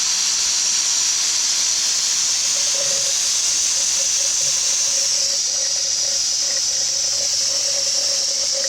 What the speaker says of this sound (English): Go ahead and plug that into the compressor